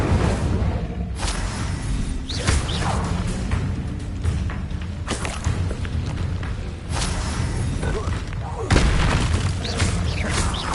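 Incendio fire spells cast in Hogwarts Legacy, repeated whooshing bursts and booms that come one after another, loud and close, with a voice speaking between them.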